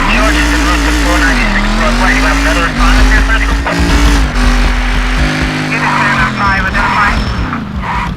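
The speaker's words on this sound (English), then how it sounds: "Okay, Tanner, let's see if you can get this vehicle up to speed and stop in the marker." A car engine in the driving game Driver: San Francisco revs loud and steady as the vehicle accelerates, its pitch climbing and leveling off over several seconds, with faint tire noise toward the end.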